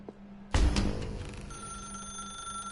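A telephone in the game The Stanley Parable bursts into a loud, abrupt ring after a brief low hum, then the ring settles into a sustained, buzzing tone that lingers.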